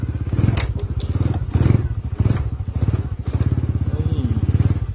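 A Honda Wave 100 motorcycle engine idles loudly up close with a steady pulsing thump, joined by clatters and thuds, while people talk faintly over it.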